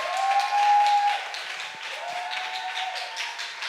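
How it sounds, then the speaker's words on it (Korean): Church congregation applauding to welcome a hospital director onto the stage for a lecture at an invited worship service, moderate steady clapping throughout with a faint tonal hum, no talk over it. "큰 박수로 환영해 주시기 바랍니다."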